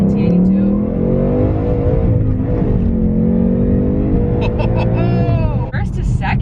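A 775 hp Mustang with a manual MT82 gearbox accelerates hard from first into second, its engine note loud and close, rising in pitch with a brief dip at the shift, while people talk over it inside the car.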